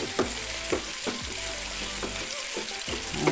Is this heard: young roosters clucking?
no